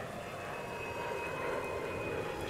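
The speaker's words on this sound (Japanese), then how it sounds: "炎上する旅客機が頭上を通過しました。" A burning passenger airliner roars overhead in the sci-fi shooter Bright Memory: Infinite, a steady, loud engine rumble and rushing wind that swells slightly as it passes, with no talk over it.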